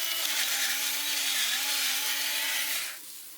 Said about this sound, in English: as soon as you turn it upside down, I mean, it starts to grind.